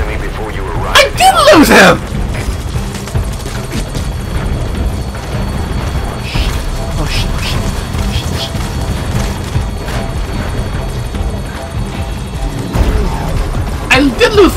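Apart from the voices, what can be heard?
helicopter landing in the video game Metal Gear Solid 5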